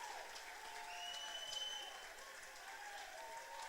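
A crowd at an AFL grand final applauds the Magpies' first goal, a faint, distant wash of clapping and cheering that holds steady for a few seconds with no voices close by.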